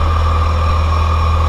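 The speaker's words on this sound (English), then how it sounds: "We let the engine warm up." A truck engine idles while warming up during an erosion filter sock installation, a loud, steady low rumble with a constant hum running unbroken throughout, close by and without speech.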